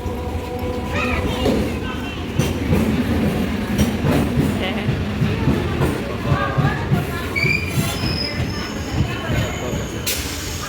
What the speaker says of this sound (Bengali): ট্রেনটার হেডলাইট দেখা যাচ্ছে